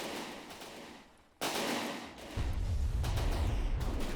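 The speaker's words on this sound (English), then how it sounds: "The guns do decent work against the Marauder." Guns on a fast old-style cruiser fire in a vehicle battle video game, loud rapid bursts of gunfire thumping over a constant rumbling background.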